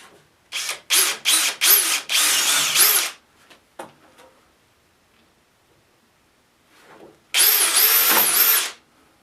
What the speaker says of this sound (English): I'm going to try a small bit first